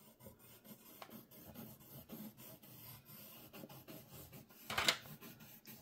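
Quiet, close rasping rubs of a tool or finger blending watercolor and umber on paper in a mixed media art journal, short repeated strokes with one louder scrape near the end.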